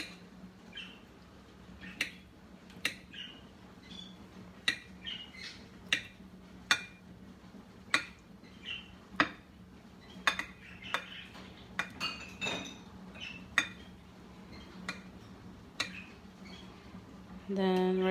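A knife cuts peeled potatoes on a board, a long run of sharp, irregular clicks and taps from close by over a quiet background, ending with a brief metallic clink.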